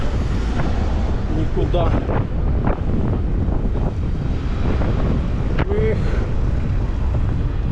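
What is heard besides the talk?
strong wind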